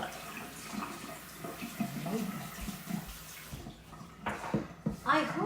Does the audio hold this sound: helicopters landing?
no